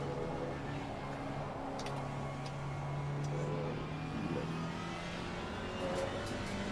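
GT3 race car engine in Assetto Corsa Competizione, onboard in a big mixed GT3/GT4 field at Barcelona, a steady droning engine note holding a sustained pitch that rises slightly mid-clip, continuous and close, with other cars faintly around it.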